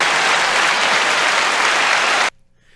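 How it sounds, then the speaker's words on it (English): A live audience claps loudly in a thick, continuous burst of applause that cuts off abruptly, leaving near silence. "Thank you for the clapping, audience."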